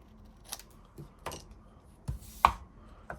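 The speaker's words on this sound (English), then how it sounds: "snip this off along that line" Snips cutting through paper card along a marked line, several sharp crisp snips spaced irregularly, close and fairly quiet against a soft background.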